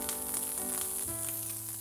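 Steady, close sizzling of langoustine frying briefly in a hot pan, a continuous crackle with a faint hum underneath and no talking.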